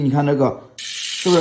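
A frying sound effect from an editing library: a short, bright sizzling hiss of about half a second, sitting between stretches of speech.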